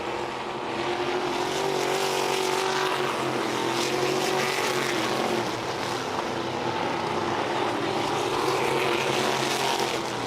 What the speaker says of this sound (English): Leaders are going to be coming to the white flag, and Weiler is taking over the final transfer spot as Will Marsh drops off the back of the 14 c